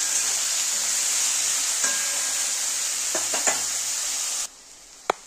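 Taro stolons fry in a pan for a Bengali loti shorshe dish, giving a steady close sizzle with a few soft stirring scrapes. The sizzle cuts out abruptly, followed by one sharp utensil clack.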